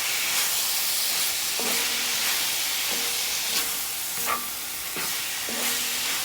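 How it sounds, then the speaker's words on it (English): Vegetables stir-fry in a pan for chicken fried rice, giving a steady close sizzle and hiss with a few soft clinks and scrapes of a utensil stirring. "Our veggies have been cooking for a few minutes. It's time to go ahead and mix everything together."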